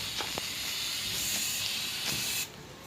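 Butane gas from a refilled portable lighter hisses out steadily and loudly as it is emptied, a continuous broad spray that cuts off abruptly near the end, leaving quieter background.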